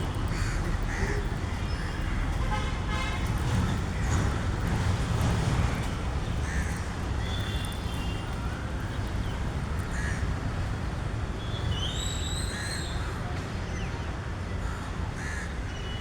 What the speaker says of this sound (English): See the crow.